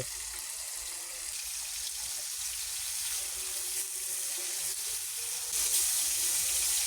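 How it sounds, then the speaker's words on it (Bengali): Marinated chicken pieces frying in oil: a steady, bright sizzle that holds level throughout and swells slightly toward the end. "এখন আমরা ফ্রাই করে নেব এভাবে একটু একটু একটু করে আমরা সবগুলো ফ্রাই করে নেব"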